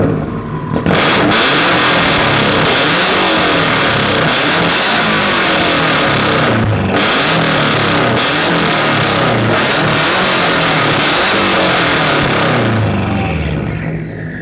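A 2015-2020 car fitted with a Tomei Expreme Ti exhaust roars at full volume up close, holding harsh, raspy revs for over ten seconds with a brief dip midway before the note eases off.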